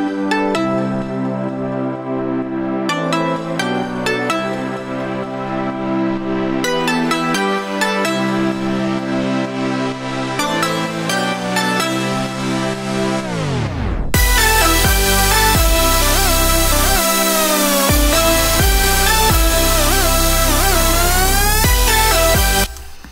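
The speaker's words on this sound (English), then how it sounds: "Mind you, this is a house song that I've been working on" A house track in production plays back as dense electronic music with a steady driving beat and layered synths, shifting to a fuller, brighter section partway through, loud throughout, with no speech.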